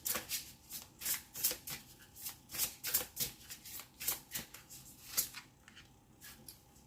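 Tarot cards being shuffled and drawn, giving a quick run of soft papery riffles and flicks that repeat in an uneven rhythm, close and quiet, with no talking.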